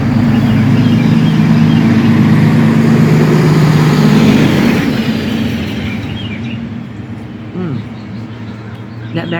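A heavy Mack truck rumbles loudly past at close range, its deep engine and tire roar dominating before fading away over several seconds, with a voice speaking over the noise.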